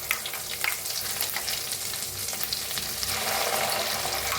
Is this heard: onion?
yes